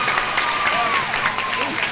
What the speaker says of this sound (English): Gets a thunderous applaud from the audiences.